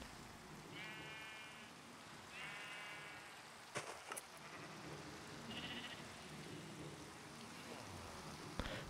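Sheep in the Minecraft video game bleat three times in short harmonic bursts, over a steady patter of rain with a couple of sharp clicks.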